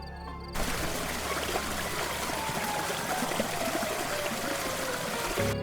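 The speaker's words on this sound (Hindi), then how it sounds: "नदी की आवाज, लेकिन आवाज बाहर से नहीं, कमरे के अंदर से आ रही थी" Steady rushing of river water flowing, heard indoors within a horror story, a dense continuous wash of trickling and streaming that holds at an even level from start to finish with no voices.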